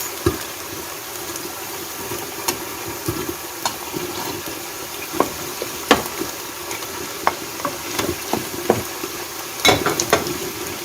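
Chopped onion and ground walnut kernels fry in a pan for Iranian fesenjoon, with steady close sizzling broken by repeated scraping stirs and clatters of the spoon.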